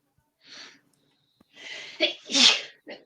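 A small breath, then a quick build-up of gasps leading to a woman's high-pitched sneeze, followed by a short sniff, all close by.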